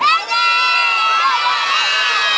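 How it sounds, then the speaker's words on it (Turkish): Children shout and cheer loudly at an outdoor magic show, a continuous near chorus of high voices that dips briefly near the start. "Ne kadar güzel bağırıyorsunuz öyle."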